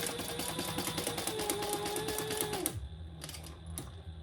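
Sewing machine stitching a quarter-inch seam on a Pelican tote bag, a steady close mechanical whir that runs for most of the clip and then stops, leaving a few faint clicks, with no talk.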